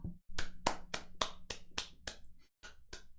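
A small audience claps at a card game tournament stream for a contestant being introduced: a loose run of about ten sharp claps in an uneven rhythm, close and moderately loud, with a short pause before the last few.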